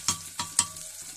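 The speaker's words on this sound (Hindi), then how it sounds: "इसी में फ्राई करेंगे" Onions and bathua dal frying and being stirred in a pan: three sharp scraping stirs over a steady low sizzle, close and moderately loud, with no talking.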